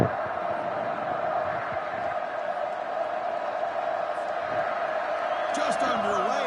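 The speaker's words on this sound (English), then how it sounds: "this home crowd is fired up and ready to make a difference today" A home crowd at a football game roars in a steady, dense wash of cheering that fills the whole stretch, with a commentator talking over it.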